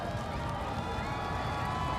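A football stadium crowd at an NCAA college game, Austin Peay at Tarleton State, roars in a steady, broad wash of noise throughout.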